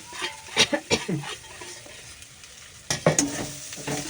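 Fried dalia and moong dal are stirred into masala in a pan, producing sizzling and repeated scraping spoon strokes in two short bursts with a quieter pause between, close and without talk.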